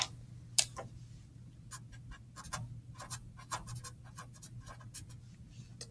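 A pen or marker writes out the formula for the area of a regular polygon in a run of quick, crisp scratches and taps, close and moderately quiet.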